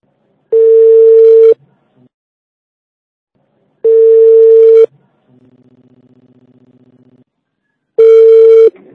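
An outgoing telephone call rings through on the line: three loud, steady tones about a second long, spaced at regular intervals, with a softer low buzzing tone between the second and third.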